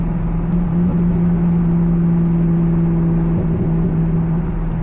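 A Chevrolet C5 Corvette driving, its engine a steady loud low drone with a constant hum and road rumble, no talk.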